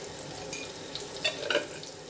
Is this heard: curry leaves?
yes